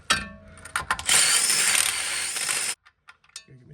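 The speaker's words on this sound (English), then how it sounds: "Go get myself a bigger stepper drill." A stepped drill bit grinds a hole through metal on a 383ci VX Clubsport project, a steady harsh whirring drill run of about two seconds that cuts off abruptly, followed by a few small clicks and clatters.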